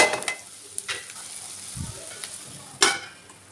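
Ginger garlic paste stir-fries on a medium flame in a pan, a low sizzle under occasional spoon scrapes and clinks, with one sharper metallic knock near the end.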